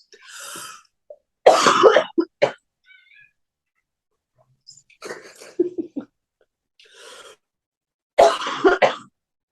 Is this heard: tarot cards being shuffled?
no